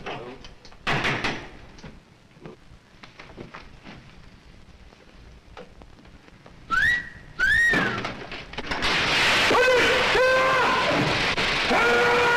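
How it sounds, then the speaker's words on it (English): During a radio serial, a person whistles a few rising and falling signal notes, with door and sliding thumps, clatter and other effects around them. "when you get it fixed, whistle, you understand?"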